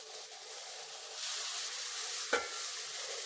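Bitter gourd fry is stirred with spice powder in hot oil. A soft, quiet hiss continues throughout, broken by a single spoon knock against the pan, with no voices.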